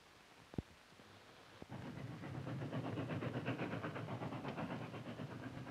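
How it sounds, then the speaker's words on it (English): A train on an old sound-effects record, a low rumbling rush with rhythmic clattering that swells in after a couple of sharp knocks and continues steadily, fairly faint. "It's a train."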